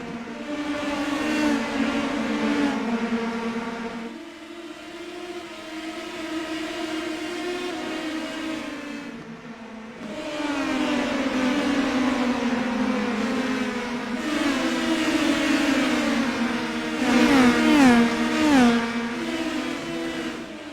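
Sprint race cars in the iRacing simulator howl around Richmond, a loud layered engine drone rising and falling in pitch as several cars pass and accelerate, with no talk.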